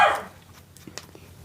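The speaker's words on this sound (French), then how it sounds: "Bon, là, mon chien, ça se peut qu'il jappe" A dog barks a few short, moderately loud yaps at the start, followed by faint scattered yips and household noise in a quiet room where makeup is being applied.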